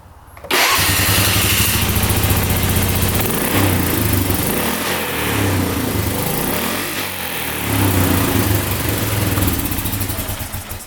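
A plowing ATV's small engine, just back together after a carburetor and air box cleaning, starts and runs loud and close, its steady drone rising and falling as it revs up repeatedly, with no talking.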